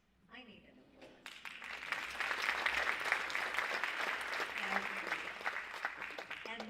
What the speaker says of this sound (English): I need an applause.